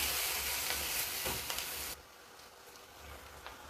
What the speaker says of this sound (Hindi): प्याज एहन लाल भऽ गेलै, नीक से भुजा गेल